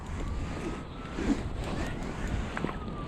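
Strong winter storm wind sweeps across a frozen lake at an ice fishing spot, producing a continuous, rough roar that buffets the microphone without a break.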